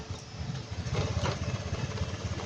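A Honda Click 125i scooter, showing fault code 52 and getting a replacement charging coil set, runs with a steady, buzzy engine drone at close range.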